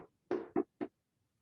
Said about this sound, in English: Just knock on my door like this.